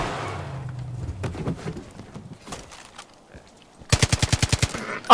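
Gunfire from the video game Far Cry: New Dawn: scattered single shots and hoofbeat-like thuds early on, then a loud, rapid automatic burst of about a dozen evenly spaced shots near the end.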